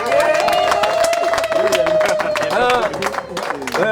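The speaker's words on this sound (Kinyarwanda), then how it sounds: "Ndagira ngo mwongere amashyi menshi cyane." An audience claps and cheers in a dense, continuous burst of applause at a Rwandan comedy show, with a voice sounding over the crowd noise.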